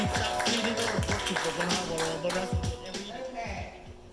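Hands clap in a comedy show, a series of sharp taps and claps over a busy, loud room with voices talking.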